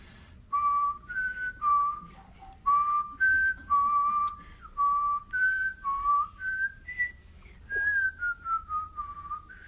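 A person whistles a bright, wavering tune in short phrases of sustained notes with brief gaps, clear and close against a quiet room at a youth barbershop quartet contest.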